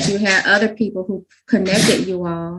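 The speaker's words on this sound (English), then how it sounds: "If you hear sneezing in the background" A dog with allergies sneezes once, sharply and fairly close, between stretches of a person talking in a conversational interview.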